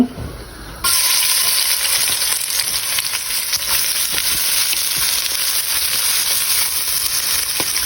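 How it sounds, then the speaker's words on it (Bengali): Onions hit hot oil and break into a loud, steady sizzle that begins abruptly just under a second in and continues bright and hissing throughout, with occasional stirring clicks and no talking. "এখন আমি পেঁয়াজ দিয়ে দিব"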